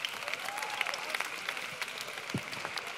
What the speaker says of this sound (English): give a clap for Jesus